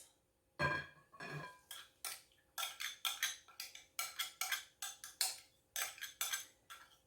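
A utensil stirs yeast into flour and salt for pizza dough in a bowl, making a rhythmic series of scraping, clinking strokes, close and moderately loud, with no talking.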